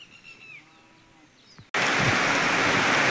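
Bullocks in a shed low in a few drawn-out calls, then heavy rain suddenly starts drumming loudly on the shed's metal sheet roof and drowns everything out.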